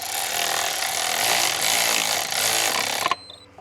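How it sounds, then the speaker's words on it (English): A cheap electric ratchet runs in a loud, steady whirring buzz for about three seconds before cutting off abruptly, working on a Rover P6 2000 TC. "It's only a cheapy electric ratchet."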